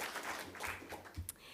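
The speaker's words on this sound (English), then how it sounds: "Let's give it a proper round of applause," Crowd at a launch event applauding, a dense but modest wash of clapping with scattered louder claps, no voices standing out.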